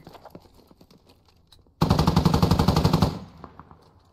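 A rapid burst of machine-gun fire in the video game Squad rattles out for just over a second, loud and dense, between quieter scattered distant shots.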